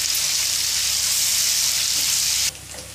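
Ginger garlic paste fries in hot oil for a fish pickle, giving a loud, close, steady sizzle that cuts off sharply near the end, leaving only a faint hiss.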